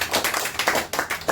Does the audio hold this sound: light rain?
no